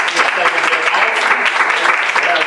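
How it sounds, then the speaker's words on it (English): Applause from a conference audience at the Awakening and Restoration Conference in Augusta, Georgia, a dense, steady wash of many hands clapping close by, with some talk in the room beneath it. "Let's give it a hand clap."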